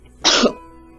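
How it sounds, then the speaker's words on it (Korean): One short, harsh cough, close and fairly loud, sounds in a quiet room, followed by faint room noise. "기침을 참을 수가 없네요"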